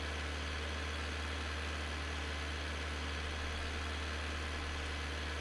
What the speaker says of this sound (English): the sound of this tractor has drowned me out because it is incredibly loud